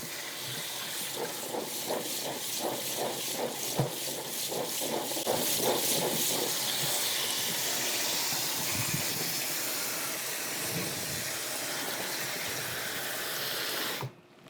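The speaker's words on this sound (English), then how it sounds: "And you're just gonna keep rinsing the corn." Tap water pours in a steady, loud hiss as white corn is rinsed in a basket or strainer, running continuously and without pause until it cuts off at the very end.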